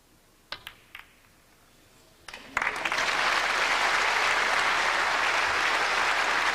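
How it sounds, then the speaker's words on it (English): Applause breaks out at a 1990 UK Championship snooker final between Stephen Hendry and Steve Davis, beginning with a few scattered claps before swelling into steady, dense clapping from the crowd that holds to the end. "Nice round of applause"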